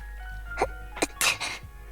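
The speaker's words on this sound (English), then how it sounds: "No, she's sneezing." A female character sneezes in the video game Zenless Zone Zero, giving a few quick sharp bursts near a chilly riverside at night over a steady low background hum.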